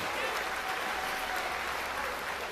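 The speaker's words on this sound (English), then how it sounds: "give each of you a real nice round of applause." Audience applause at an evening session of a county youth fair and livestock show, a thick continuous wash of clapping held at a constant level, fairly distant and without talk.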